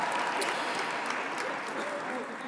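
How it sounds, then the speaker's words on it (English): A gala crowd applauds, a sustained wash of clapping from many hands at moderate distance, holding steady before easing slightly at the end, with some voices mixed in. "another round of applause"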